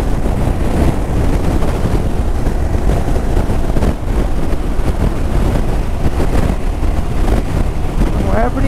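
Strong wind blowing near the active Sabancaya volcano roars continuously and buffets the microphone with a steady, loud rumble throughout.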